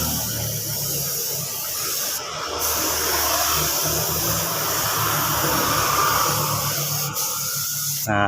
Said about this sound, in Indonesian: Setelah kering langsung kita tutup, kita semprot clear.